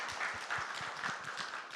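A church congregation applauding during a young adults' worship service, producing dense, moderately distant clapping that continues evenly throughout the brief moment.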